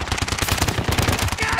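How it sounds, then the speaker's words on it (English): Rapid assault rifle fire in three-round bursts from a video game, a dense series of sharp, loud cracks repeating in quick rhythm close to the listener. "Three-round burst on assault rifle."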